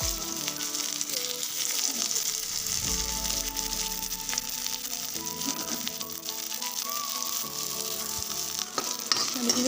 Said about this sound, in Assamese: এয়া মই অলপ তেলত ভাজি ল'ম